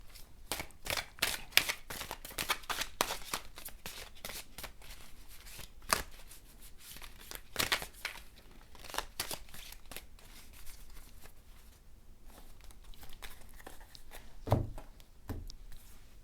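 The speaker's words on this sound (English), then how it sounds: "I'm done shuffling the deck" Close, quiet riffling and tapping of a tarot card deck being shuffled repeatedly, in irregular bursts with brief pauses between.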